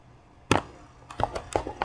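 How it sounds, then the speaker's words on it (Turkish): A few sharp, close footsteps thud in the Five Nights at Freddy's 4 video game, one heavy step followed by a quicker run of lighter steps against a quiet background. "Ayak sesleri duyuyorum."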